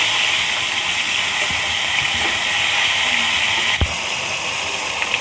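Whole crab frying in a pan while being flipped, a steady loud broadband hiss of hot oil with one sharp clatter of the turn near the end, no talking.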